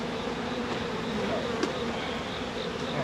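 A steady, close insect buzz of many bees hums continuously, with a brief sharper tick partway through.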